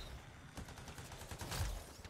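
Rapid bursts of gunfire from a sniper rifle and other weapons in the sci-fi action game Anthem, with sharp repeated reports and a heavier blast near the end, no talk.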